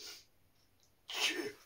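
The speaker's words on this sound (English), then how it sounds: "I'm going to sneeze." A single sharp sneeze from a person bursts out loud and close after a short near-silent pause, with a faint breathy sound at the very start.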